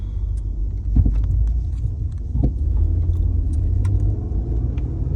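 A Hyundai Santa Fe with a faulty, badly corroded input speed sensor drives down a street, its engine and tyres giving a steady low rumble from inside the cabin, with small rattles and knocks now and then and no talking.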